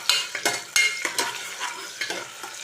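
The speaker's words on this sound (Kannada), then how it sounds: "ಈರುಳ್ಳಿನೂ ಕೂಡ ಎಣ್ಣೆಯಲ್ಲಿ ಒಂದು 30 ಸೆಕೆಂಡ್ ಚೆನ್ನಾಗಿ ಫ್ರೈ ಮಾಡಬೇಕು" Chopped onions are stirred in hot oil for a black-eyed pea stir-fry. A spatula scrapes the pan in repeated clattering strokes over a gentle sizzle, close and fairly loud.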